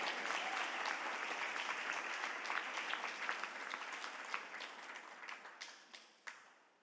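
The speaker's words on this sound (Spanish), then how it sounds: "Dale un aplauso a Jesús con toda tu fuerza" A church congregation applauds during a sermon, a broad, dense wash of clapping from a large crowd that gradually thins toward the end with a few distinct claps standing out.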